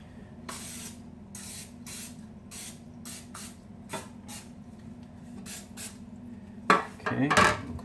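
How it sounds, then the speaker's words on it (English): Cooking spray hisses into a small pan in several short bursts, close and crisp over a low steady hum. A few light metallic clinks of the pan come near the end. "Gonna ooze it up with some cooking spray."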